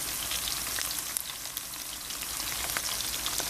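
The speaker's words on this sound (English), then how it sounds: "We're going to saute this. We're going to just saute this right now." Garlic, chives and green seasoning sautéing in a pan for a Bajan gravy, giving a steady close sizzle and crackle with small pops throughout and no talking.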